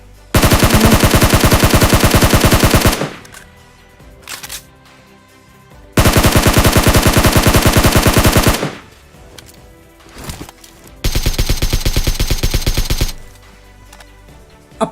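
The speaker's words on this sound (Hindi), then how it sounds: "तो मैं लड़ाई के लिए उकसाता हूँ, फ्री में गोलियां चलाता हूँ।" Three long bursts of rapid automatic gunfire in PUBG Mobile, loud and close, separated by brief quieter gaps with a few scattered single shots.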